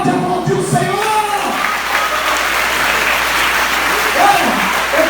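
A church congregation applauds loudly and steadily, with a voice speaking over the clapping at the start and toward the end.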